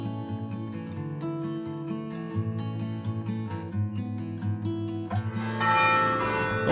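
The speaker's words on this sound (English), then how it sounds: "Up here in the bell tower there's a total of 35 bells, and just by chance when I got here it just started ringing." The 35-bell carillon in the Bruges bell tower rings a melodic sequence up close, overlapping bell tones sounding one after another and swelling louder toward the end.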